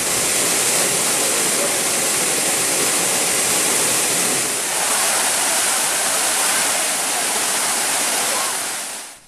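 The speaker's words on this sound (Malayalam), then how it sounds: "കാടിന് നടുവിൽ നിറഞ്ഞൊഴുകുന്ന ഈ വെള്ളച്ചാട്ടം മുതിരപ്പുഴയിലെ മനോഹര കാഴ്ചയാണ്." Chunayamakkal waterfall on the Muthirapuzha river in Idukki, flowing full through forest, roars as a loud, steady, unbroken rush of falling water.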